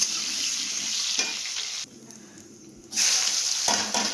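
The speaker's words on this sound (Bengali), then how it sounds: "আলুটা ভেজে নিচ্ছি" Potatoes fry in a pan with a close, steady sizzle and occasional stirring clatter; the sizzle drops away for about a second midway, then returns loudly.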